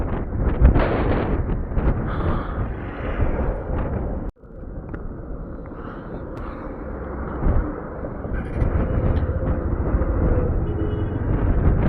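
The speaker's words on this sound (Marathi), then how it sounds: "लिटरली मी हलतोय इथे, एवढा वारा आहे." Strong wind hits the microphone on a hilltop near Lonavala, a loud roaring buffet that drops out briefly and then returns as a steady, blustery rush. No one speaks.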